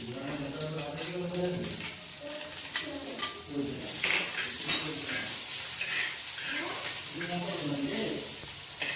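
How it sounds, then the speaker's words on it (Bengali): Chopped onions frying in a pan give a steady sizzle that swells louder midway, with faint birdsong and a little background talk. "পেঁয়াজ ভাজা হয়ে গেছে"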